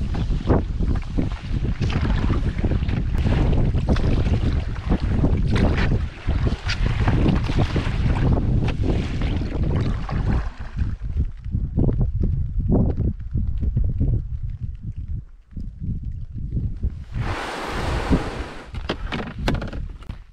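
Strong wind roars and buffets the microphone almost continuously while canoeing on Loch Shiel, with gusts rising and falling and a brief lull near the end.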